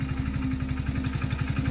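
A motorcycle engine idles and putters close by with a fast, even pulsing thump and a slight clattering edge, holding steady for under two seconds.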